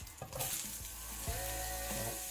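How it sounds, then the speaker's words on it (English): Mushrooms hitting hot olive oil in a pan, a steady bright sizzle with crackling spits and a few clinks as they land, close and continuous. "Let's drop in a little olive oil and the mushrooms."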